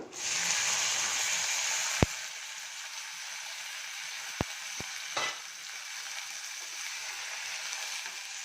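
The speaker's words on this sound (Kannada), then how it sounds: "ಸ್ವಲ್ಪ ಚೆನ್ನಾಗಿ ಫ್ರೈ ಆಗಲಿ ಒಗ್ಗರಣೆ" A tempering fries in a pan with a loud, steady sizzle and hiss, broken by a few sharp clicks of a utensil against the pan; the sizzle eases slightly midway but keeps going.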